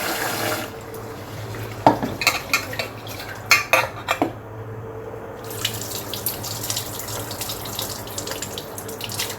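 Rice going into a cooking pot at a home kitchen sink in the evening, with running water, grains and a utensil clattering against metal in a cluster of sharp knocks, then stirring and a faint trickle.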